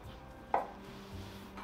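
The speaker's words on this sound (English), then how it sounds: "So I'm just gonna cut down so it looks flat." A knife slices down through a portobello mushroom to flatten its base, making a single crisp cut against the board in an otherwise quiet kitchen.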